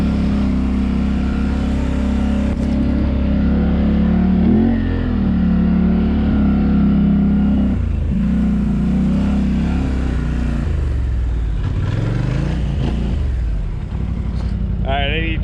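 A Polaris Sportsman XP 1000 ATV engine drones steadily and loud throughout a ride, with gear-change swells and a rise in revs near the end, while a voice talks over it.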